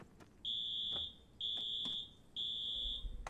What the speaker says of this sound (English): No, that's the fire alarm.